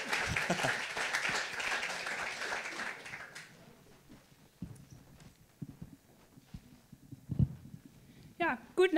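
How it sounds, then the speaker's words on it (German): Audience applause at a science slam in Freiburg, a loud, dense burst of clapping for about three seconds that fades into quieter room noise with scattered sounds, and a voice briefly at the end. "Bitte mit einem riesigen Applaus"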